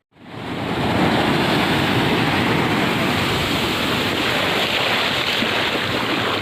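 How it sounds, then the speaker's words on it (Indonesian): Ocean waves at Santolo beach, a steady loud wash of surf that swells in within the first second and holds a broad, continuous roar throughout, with no voices. "Ombaknya cukup tenang"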